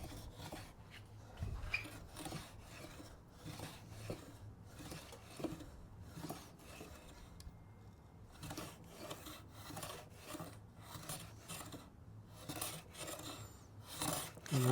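Light, repeated rasping strokes of a plane blade backed off to take fine shavings from wood while building a workbench leg assembly, a steady series of soft scrapes at close range with no talk.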